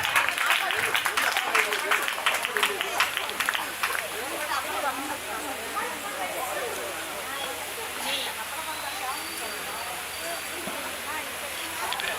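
A church congregation at a Telugu Watch Night service claps steadily to welcome arriving people, making a dense, continuous patter of applause with voices talking and calling underneath.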